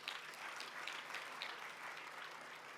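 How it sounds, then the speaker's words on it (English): An audience at an academic colloquium giving a warm round of applause, steady even clapping heard quietly from a distance with no voices on top. "Another warm round of applause"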